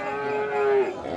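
A single long, loud moo from a cow at Satmail cattle market on a rainy day, close by and rising slightly before it trails off.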